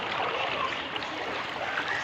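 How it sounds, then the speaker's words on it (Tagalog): Strong floodwater current rushing steadily during a flood, a loud continuous broadband roar with no pauses. "Lakas ng agos."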